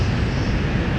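Frontier Airlines airliner at Minneapolis–St. Paul airport, a steady broadband jet engine roar that stays loud and constant throughout, with no talk.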